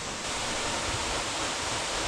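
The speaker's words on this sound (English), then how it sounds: "Just through the trees over there's a beautiful waterfall." Waterfall through the trees on a forested hillside, a steady broadband rush of falling water, even and continuous with no breaks, moderately loud and without voices.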